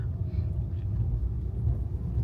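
Steady low rumble from inside a moving Tesla car, an even road drone that holds constant throughout the short stretch.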